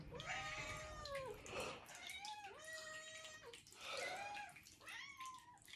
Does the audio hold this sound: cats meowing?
yes